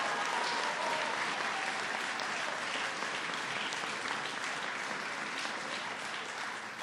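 A large crowd applauds steadily, a dense sustained clapping that holds for several seconds and tapers slightly at the end.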